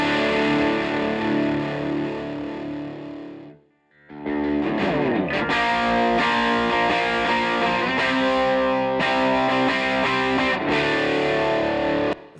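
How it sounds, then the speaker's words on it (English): Four stacked distorted electric guitar tracks play together as one thick, heavy wall of sound. A chord rings out and cuts to near silence around four seconds, then a dense, loud riff runs steadily to the end. "It's a pretty great guitar sound, and it sounds like one guitar, even though it's 4 stacks of tracks on top of each other."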